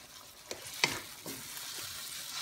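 A spoon scrapes and stirs brown sugar in a pan during fish escabeche cooking, making a few distinct scraping strokes over a faint sizzle, close and quiet, with no talking.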